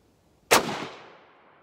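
A single sharp Glenfield 30 Scout rifle shot cracks out loudly at an outdoor range after a quiet moment, its report decaying over about a second with no talk.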